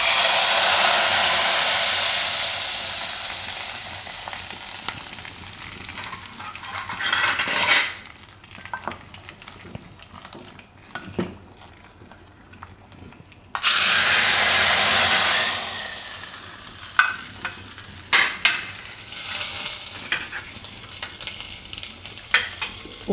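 Green chilies and curry leaves hit hot oil for a tempering for farali kadhi, bursting into a loud hiss that slowly dies away, then a second sudden roaring sizzle that fades under scattered utensil clinks; no one talks.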